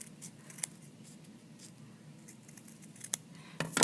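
Scissors snipping through felt trimmed from an embroidered sugar skull ornament, a few quiet close crisp cuts separated by pauses, with a louder snip near the end; no speech.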